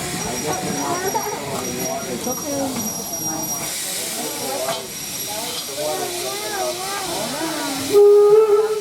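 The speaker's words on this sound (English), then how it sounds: "Dylan, Wait for the whistle" People chatter amid hissing steam at Firestone Station in Greenfield Village, then a loud, sustained whistle from the steam locomotive Torch Lake No. 3 sounds near the end.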